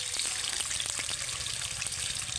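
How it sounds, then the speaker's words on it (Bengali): Marinated chicken for a roast fries in oil with a continuous, even bubbling sizzle, close and moderately loud, peppered with small crackles. "চিকেনটা ভাজা হোক"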